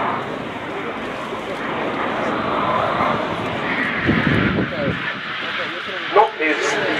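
A Spanish Air Force Eurofighter EF-2000 flies a slow, high alpha flyby at an air display. A broad, loud jet roar rises and swells under close commentary, with crowd noise around it.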